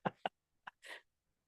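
A person sneezes during a class, a brief burst of short sharp bursts followed by a breathier exhalation, fairly faint and close with no talk.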